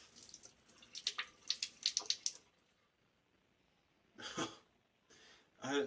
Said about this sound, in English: I'm going to pour the bloom water off.